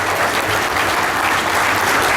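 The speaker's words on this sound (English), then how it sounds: "So you guys give yourselves a round of applause" A crowd at the Daytona Rolex 24 corral applauds steadily, a dense continuous patter of many hands clapping with no pauses.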